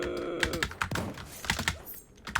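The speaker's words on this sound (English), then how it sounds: "Even my spam clicking's like bad." Quick, close clicks and key presses from spam clicking on a computer during a Super Animal Royale game, uneven in rhythm with short gaps, moderately quiet and unaccompanied by speech.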